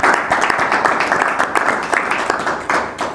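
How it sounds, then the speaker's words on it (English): An audience claps through a podcast's closing moments, with sustained, dense applause holding steady at close range and a few sharper individual claps standing out. "Give me a round of applause,"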